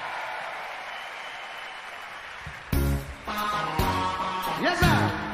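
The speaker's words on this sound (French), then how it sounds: "Je vous demande d'applaudir" An arena crowd applauds at a concert at Bercy in Paris in 1999, a broad wash of clapping that gives way midway to the band's music starting up loudly over it.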